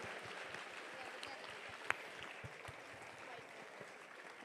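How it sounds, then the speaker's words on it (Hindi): A village audience claps together for a guest, a dense, even patter of hands heard from a distance with a brief sharp click partway through; no one speaks over it. "एक बार जोरदार ताली संजय सर के लिए बजा दीजिए"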